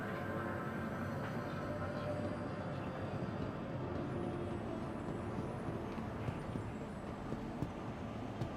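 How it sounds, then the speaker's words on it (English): A tram pulls away from a station, giving a continuous, moderately faint rolling rumble with a bit of rattle that holds steady throughout. "Tram now leaving the station."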